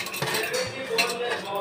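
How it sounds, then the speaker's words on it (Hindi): Spoon stirring gram flour, garlic, red chili, cumin powder, salt and turmeric in a bowl, giving close, steady scraping and soft clinking strokes throughout a short stretch with no talking. "अच्छे से मैंने मिक्स कर लिया है"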